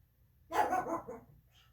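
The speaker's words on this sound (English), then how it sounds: "I'm sorry, that's my dog." A pet dog giving one short bark indoors, close by and fairly loud, with no other sound around it.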